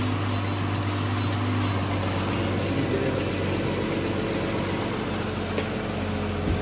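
A 2014 Dodge Charger SRT engine idles steadily right after a quick start, with fresh plugs and coils fitted. The low, even hum is continuous and close, with no voices over it.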